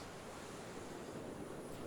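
Ocean waves wash in steadily at the water's edge, a soft continuous surf with some wind noise, faint and unbroken with no voices.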